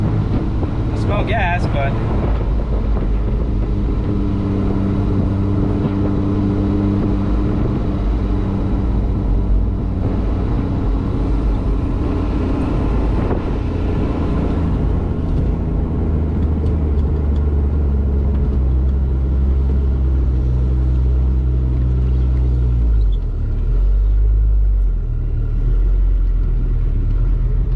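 A Triumph TR6 back on the road after 20 years in storage drives with a steady, loud low engine rumble and road noise throughout, while people talk over it.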